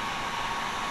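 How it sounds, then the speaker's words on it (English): A heat gun blows a steady, loud rush of hot air close up while melting small plastic headlight tabs on a 2003 Mustang GT, with no voices. "Got the heat gun melting the little plastic tabs"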